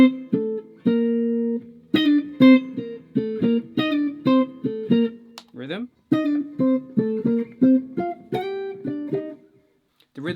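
A Fender Jazzmaster on its rhythm circuit plays clean, dark picked octave notes in short phrases with gaps between, fairly close and alone.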